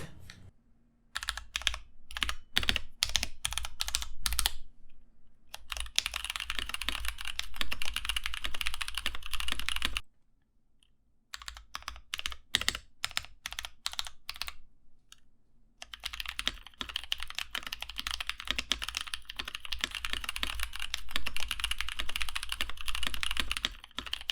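Rapid, steady typing on a mechanical keyboard with filmed and lubed NovelKeys Blueberry switches, dense clacky keystrokes close up, broken by a couple of short pauses.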